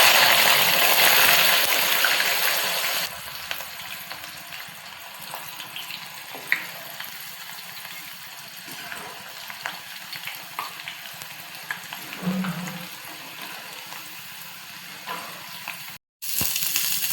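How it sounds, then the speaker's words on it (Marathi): Sliced onions frying in very hot oil for a vegetable cooker biryani, with a loud sizzle at first that settles into a softer continuous crackle, with occasional clinks of a utensil. "आता कांदा तळण्यासाठी तेल कडक गरम झालं आहे"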